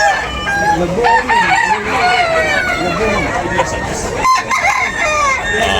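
Backyard roosters for sale at a crowded poultry expo crow repeatedly and loudly, overlapping calls and clucks from several birds close by, with people talking in the background.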